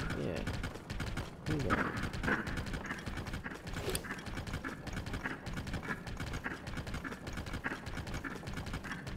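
Horse hooves clip-clopping in Zelda: Tears of the Kingdom, a steady walking rhythm with soft mechanical clatter from the game, heard under a voice talking throughout.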